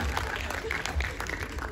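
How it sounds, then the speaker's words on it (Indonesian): Audience applause at an Indonesian film press event, a brief dense patter of clapping heard under a host's ongoing talk. "Boleh tepuk tangannya dong untuk Saskia dan Fadi ya."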